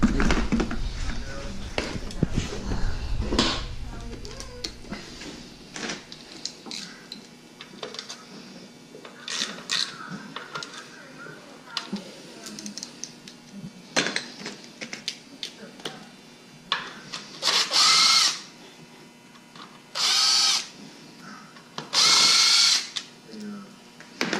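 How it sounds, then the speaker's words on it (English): Ratchet clicks and rapid tool bursts while working on a Trans Am WS6 car, with short loud runs of ratcheting near the end and voices talking in between. "Ratchet."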